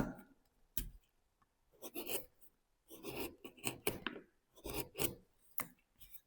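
A wood carving chisel, a 10 mm profile gouge, cuts into linden wood in a series of close, crisp crunching and scraping strokes with short pauses between them.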